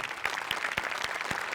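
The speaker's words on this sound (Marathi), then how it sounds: "एकदा दिग्दर्शकांसाठी पण टाळ्या." Audience applause for the director on a Marathi stage comedy show: a dense burst of clapping, steady and fairly loud throughout, with no talk over it.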